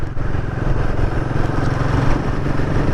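Royal Enfield 450 Guerrilla motorcycle being ridden on a test ride: a loud, steady engine drone with a rapid pulsing throb and wind buffeting, held continuously without pauses.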